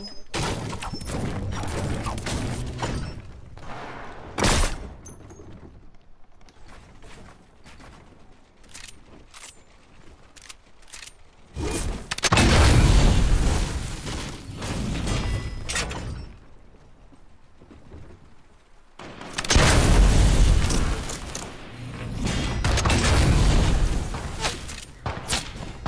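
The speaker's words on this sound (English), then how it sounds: "Oh, there's a cannon." Cannon fire and explosions in the video game Fortnite: sharp bursts and two long, loud booming stretches of blasts and debris, separated by quieter gameplay sounds.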